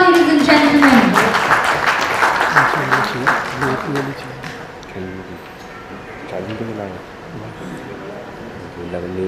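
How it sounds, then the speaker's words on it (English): Applause rises from the audience at an entrepreneurship conclave conference, loud at first beneath an announcer's amplified voice, then fading out as talking continues. "A round of applause, ladies and gentlemen."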